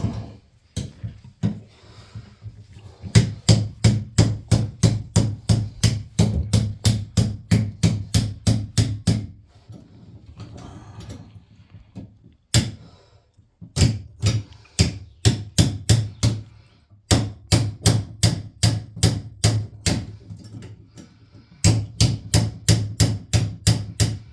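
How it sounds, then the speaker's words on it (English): Loud hammer blows struck in fast rhythmic bursts during a plumbing repair, several long runs of rapid strikes separated by short pauses, close and ringing. "a little bit bigger hammer to give a little bit more leverage"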